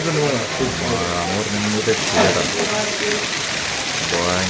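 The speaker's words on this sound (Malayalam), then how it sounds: "ഭക്ഷണം കഴിക്കുന്ന സമയത്ത് അടിപൊളി മഴ" Steady rain hisses throughout at Poringalkuthu, with voices talking over it and a brief heavier gush midway.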